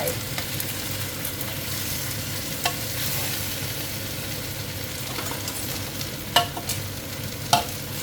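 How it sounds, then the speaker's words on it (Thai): Wide rice noodles coated in egg are stir-fried in a pan, with a steady, fairly loud sizzle and scraping throughout and a couple of sharp clinks near the end. No one speaks. "แล้วเสร็จแล้วเราก็ผัดเส้นนะคะใส่ลงไป"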